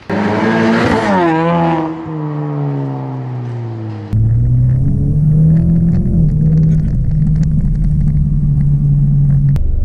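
A turbocharged EcoBoost car engine revs hard and climbs through gears, then settles into a loud, steady drone as the car drives on.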